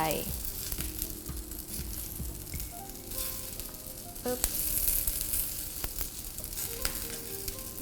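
Shrimp gyoza frying in a pan over fairly high heat give off a steady, close crackling sizzle with occasional sharper pops and light utensil clinks, faint talk now and then.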